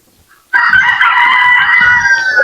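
Chickens and chicks crowd in at feeding time, a rooster crowing and hens clucking loudly and continuously at close range after a brief quiet start, with soft lower scuffling underneath.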